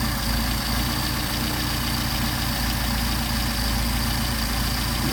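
A Mercedes 190SL engine on Solex carburetors idles at about 700 rpm, a steady, close, low rumble with an even pulsing throb that runs unbroken throughout.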